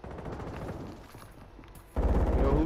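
Gunfire in a Call of Duty-style multiplayer video game, a short spell of rapid rattling shots followed by a louder, heavier burst toward the end.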